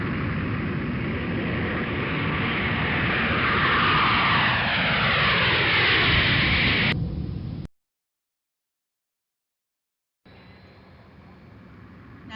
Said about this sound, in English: Now that we've taken off, Captain Carl has set the plane to autopilot